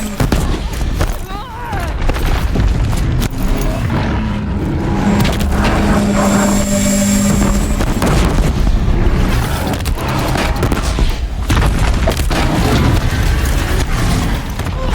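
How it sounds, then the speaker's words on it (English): Disc launcher explosions in the game Horizon Zero Dawn form a dense, continuous roar of booms and blasts with a droning hum, loud and unbroken throughout. "Watch out for the disc launchers!"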